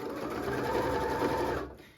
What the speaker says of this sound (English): I always start sewing on the side of the bag that is the main fabric